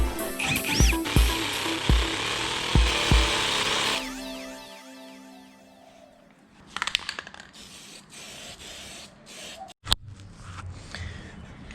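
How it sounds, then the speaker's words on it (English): A power drill drilling out a coilover top hat on a Datsun 280ZX, first a rough rattling grind with a few knocks, then a fading whir and scattered clanks in a workshop. "Drill this out."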